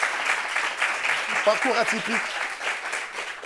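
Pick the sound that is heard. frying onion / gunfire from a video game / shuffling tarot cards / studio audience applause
studio audience applause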